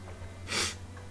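A single short sneeze bursts out over a low steady hum, brief and fairly close, with no talking around it.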